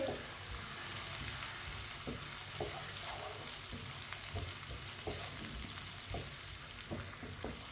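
Chopped onion frying in a pan with cumin seeds, stirred with a spoon, a steady quiet sizzle broken by regular scraping knocks of the spoon against the pan.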